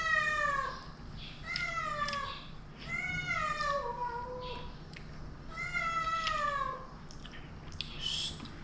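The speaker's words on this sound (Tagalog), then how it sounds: "Nag-aaway po yung dalawa, yung aso at saka pusa." A cat fighting with a dog gives a run of loud, close, drawn-out meows and caterwauls, coming in four or five separate wailing bursts over a low background hum.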